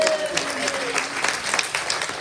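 A conference audience at a school librarians' literacy session applauds everyone, dense clapping with a few cheers, with a brief voice at the start.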